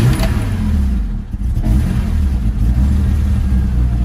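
A 1977 BMW 633 CSi (E24) engine runs close by with a loud, steady idle, holding an even low rumble for about four seconds.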